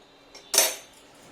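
A spoon knocks once against a pot of thick palm (taal) kheer being stirred, a single sharp metallic clink and short scrape close by in an otherwise quiet kitchen.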